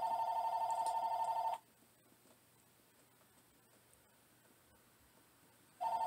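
A telephone rings indoors with a steady electronic ringtone, one loud burst at the start, then a quiet pause, then the ring starting again at the end.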